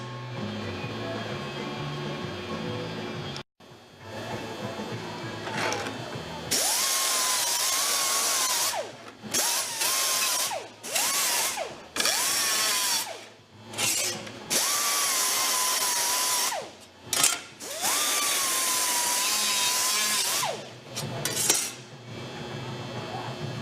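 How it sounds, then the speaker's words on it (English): Angle grinder grinding slag off plasma-cut metal wings for a casting project, loud sustained bursts of high-pitched grinding that stop and restart several times, with a ringing whine as the disc spins. "I'm going to go ahead and grind the slag off of these from the plasma cutter"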